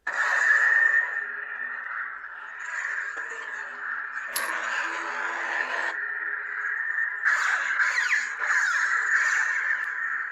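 A Darth Maul lightsaber sound font: a continuous buzzing, humming electronic tone with shifting swells and a sudden crackling burst midway, loud and close with no voices.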